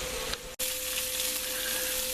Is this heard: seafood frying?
yes